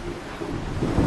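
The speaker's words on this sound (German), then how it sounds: "wie unheimlich es ist, nachts ein gewaltiges Gewitter zu erleben" A heavy night thunderstorm over a camping tent in Australia, with a deep, continuous rumble of thunder and the broad wash of pouring rain filling the whole short stretch.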